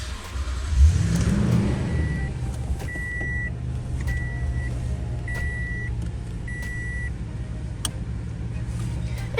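A 2017 Toyota Tundra SR5 pickup engine turns over on the key and fires with a short rev, then runs at a steady low rumble while a chime beeps at regular intervals.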